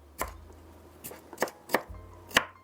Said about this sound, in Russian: Кубиками чуть помельче режу болгарский перец.